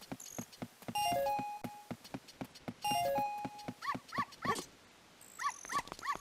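Several dogs in The Legend of Zelda: Ocarina of Time bark at night in repeated sharp yaps. Bright chiming game tones play between the barks, and no one speaks.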